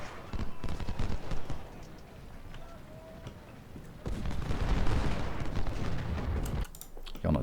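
Musket volleys and artillery in the Civil War strategy game Ultimate General: Civil War, at the Seven Pines battle, a dense continuous crackle of distant rifle fire that swells louder midway, with scattered sharper reports.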